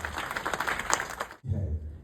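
Audience at a Kangen Water event in Ranchi claps in a short burst of applause that cuts off abruptly, followed by low room murmur.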